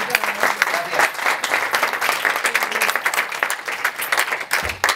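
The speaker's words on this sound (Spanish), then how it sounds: "a mí me han aplaudido un poquito y a ti mucho más" Audience applause at a live magic show, a dense, steady wash of many hands clapping throughout, loud and close, with no one speaking over it.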